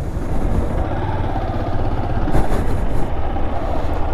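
A Honda CG 160 Fan motorcycle rides through Recife city streets, its engine giving a loud, continuous low rumble mixed with road and wind noise and a brief surge midway.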